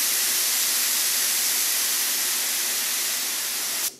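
A Harbor Freight paint spray gun held wide open and blasting a loud, continuous, close hiss of air and paint that runs for several seconds before cutting off abruptly.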